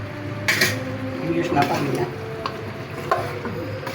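A spoon scrapes and clinks around a pan while chicken giblets and vegetables (yardlong beans, potatoes and carrots) are stirred for a Sylheti-style dish, with soft sizzling beneath and a voice speaking nearby.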